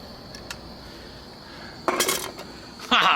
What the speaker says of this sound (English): let's put a little stove under the grate